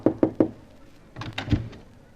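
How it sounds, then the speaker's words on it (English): Three sharp knocks on a door in quick succession, followed by a softer cluster of bumps and a final thud, close by with no talking. "Shall we knock or just barge in?"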